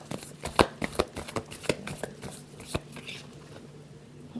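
A deck of tarot cards is shuffled by hand in quick, papery riffles and taps, with a sharp snap or two, close and moderately quiet.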